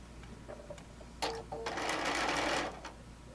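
A sewing machine runs in two short bursts and then one longer steady stretch, stitching quilt strips and squares together; the whirring is close and clear, with no talk.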